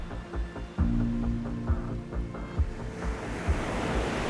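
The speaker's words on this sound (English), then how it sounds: "The way that the sea swells and crashes against the rocks is unparalleled." Sea swells break against rocks at San Diego tide pools, a loud rolling surge with several thumping impacts and a rising wash of spray and foam toward the end, with wind noise over the microphone.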